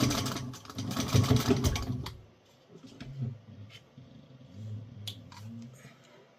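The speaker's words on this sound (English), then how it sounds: "I like to just baste it together before I put it on the bag." A sewing machine bastes stiff webbing onto a bag, stitching in a rapid, loud run for about two seconds, then stopping and starting in short, quieter bursts with handling clicks between them.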